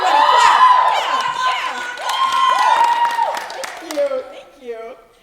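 An audience at a school play bursts into loud clapping and cheering, with whoops and shouts on top. The ovation swells, dips briefly and swells again before tapering off, and people talk over the last moments.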